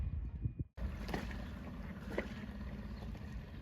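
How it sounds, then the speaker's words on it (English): Dinghy traffic in a sheltered anchorage, a steady outboard-motor drone with wind and water noise, fairly quiet and continuous after a brief cut. "Quite busy with dinghy traffic here, making the boat swell a bit."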